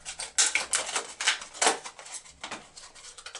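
A blade slices through the cardboard packaging of a Star Wars nightlight box, a run of crisp scratchy cuts and tearing rasps, close and moderately loud with no talk.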